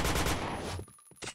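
Rapid automatic gunfire in the shooter game Point Blank, a dense loud burst that cuts off abruptly and is followed by a few scattered single shots, with no talking.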